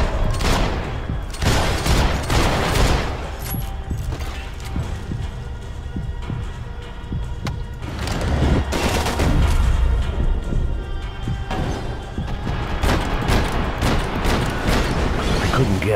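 Gunshots from Max Payne 3 in an airport setting ring out as loud, sharp bursts spaced through a tense scene, with booming impacts and no one talking over them.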